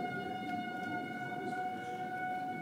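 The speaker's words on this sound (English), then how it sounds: "If you listen, you can hear the sirens going back on." Distant tornado warning sirens wail with steady, sustained tones carrying across an open area, faint but continuous over a low background rumble.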